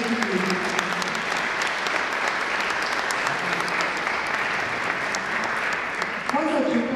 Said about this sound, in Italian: vorrei dedicare un affettuoso applauso